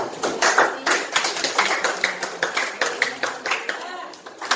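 Classroom clapping for a student group during a lesson, a handful of people clapping in loose rhythmic bursts, close and fairly loud, with some voices underneath.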